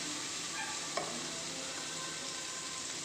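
Large chunks of potato and giant taro hit a pan of fried spices and are stirred, making a soft, quiet sizzle with one light knock of the spoon near the start and no voices.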